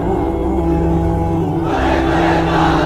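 A crowd shouts takbir in unison at a Bengali religious gathering, a sustained loud chorus of many voices that swells louder in its second half.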